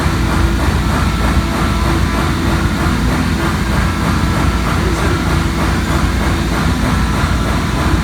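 Milling machine with an ER32 collet holder cutting metal under coolant, taking a heavy 4-inch axial cut; a loud, steady grinding roar that holds continuously without a break.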